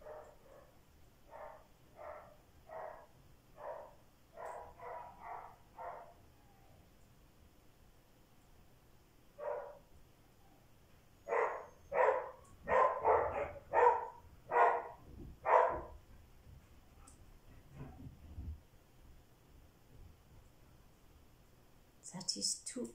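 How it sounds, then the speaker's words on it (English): Two excited dogs bark in quick repeated bursts, with a clustered run of barks near the start and a louder, denser volley midway. The barking sounds moderately distant against a quiet background. "That is two excited dogs."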